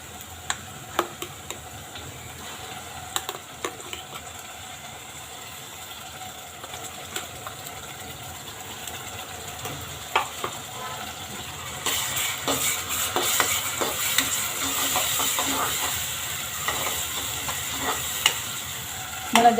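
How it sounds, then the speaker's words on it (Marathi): Ground masala paste sautéing with browned onions in a pan for val birde, a steady soft sizzle with scattered scraping stir clicks, growing denser and louder toward the end; no voices. "वाटण परतून घेऊ आपलं"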